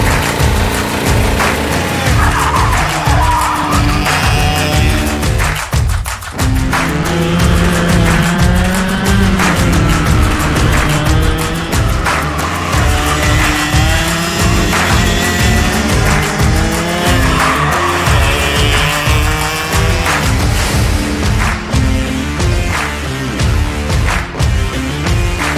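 A Kart Republic DAP racing kart lapping a track, its engine loud and close with rising and falling revs and occasional tire squeal through corners, continuous throughout with no talking.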